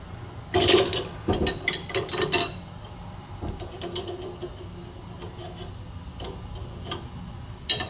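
A 17 mm wrench loosens the fork cap on an XR650R motorcycle, giving a burst of close metallic clicks and ratcheting ticks early on, then quieter scattered mechanical clicks and handling noise.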